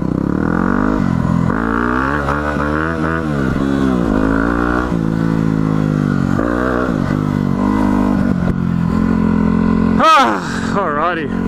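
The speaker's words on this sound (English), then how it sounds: "I've got to put all my luggage on my bike and then ride the hour and a bit home" A luggage-laden motorcycle climbs a hill, its engine loud and close, revs rising and falling in repeated surges through gear changes, with a sharp high rev burst near the end.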